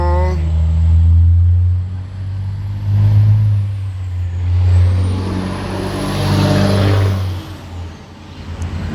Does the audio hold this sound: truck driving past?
yes